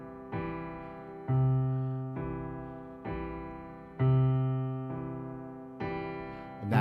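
Piano with the sustain pedal held plays a repeating pattern of a bass note followed by a chord, each struck note ringing out and slowly decaying, played solo.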